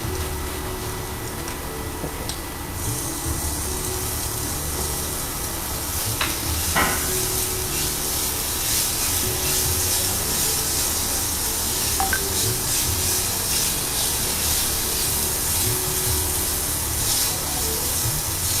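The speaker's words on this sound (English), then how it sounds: "So once we get a little golden brown color in the onions, we'll add the tomatoes." Onions fry to golden brown in a pan as tomatoes are added, giving a steady close sizzle and hiss with a few stirring scrapes throughout, no talking.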